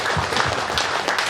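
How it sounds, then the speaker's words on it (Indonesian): Audience applause at a regional political campaign event, a short steady burst of clapping from a crowd, moderately loud and continuous with faint voices mixed in. "Tepuk tangan dulu."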